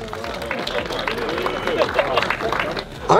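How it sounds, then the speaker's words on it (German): Crowd cheering and clapping at a TTT Halfmile drag-racing event, a dense, steady wash of applause and chatter that swells louder near the end. "Ein Applaus für die schnellsten Front-, Allrad- und Hecktriebler hier beim TTT Halfmile."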